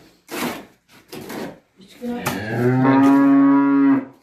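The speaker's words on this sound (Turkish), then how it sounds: "İnek sesi geliyor bak şimdi" A cow moos loudly and close by in a village barn under construction, one long drawn-out low call following a few short knocking and scraping sounds.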